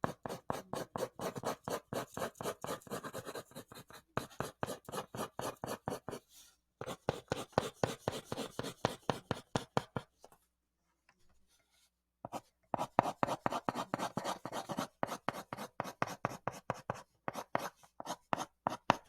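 Pencil shading on paper makes rapid, rhythmic back-and-forth scratching strokes, close and steady, broken by a few short pauses as the pencil lifts.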